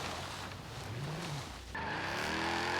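A 1997 BMW M3 with a drift tune slides sideways in Forza Horizon 3, engine droning under a rising and falling squeal, then a sharp step up into a steady, louder howl of tire screech and revs near the end.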